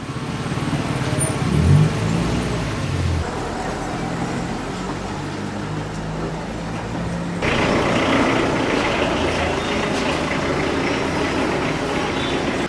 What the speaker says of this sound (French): Les colectivos sont des minibus très populaires, des sortes de taxis que l'on prend à plusieurs